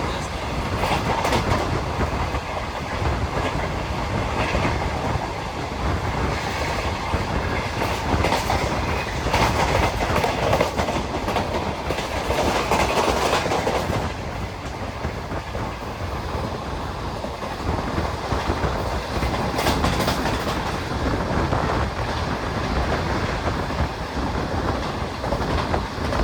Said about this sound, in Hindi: हमारी ट्रेन पास कर रही है 112 किलोमीटर की रफ्तार से।